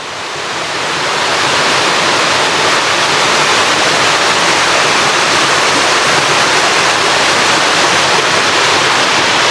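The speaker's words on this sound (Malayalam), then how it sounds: "അപ്പോൾ ഇതാണ് നമ്മൾ പറഞ്ഞ വാട്ടർഫാൾസ്." A hidden waterfall deep in a forest roars in a steady, dense broadband rush of falling water that fills the whole clip at close range with no voices over it.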